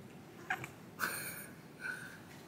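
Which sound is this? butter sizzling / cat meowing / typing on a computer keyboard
cat meowing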